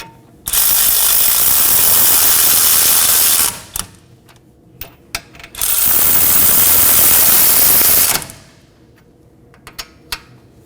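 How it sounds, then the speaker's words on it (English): A hand ratchet snugs down the brake caliper bracket bolts on a Nissan Maxima in two long, loud runs of rapid clicking, separated by a pause with a few light metallic taps. "hand thread on our two bracket bolts. And just snug these down"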